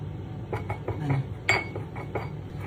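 Teaspoon clinking against a bowl while matcha is added to a cosmetic face mask mixture, a series of light, close metallic taps in an uneven rhythm, one slightly louder.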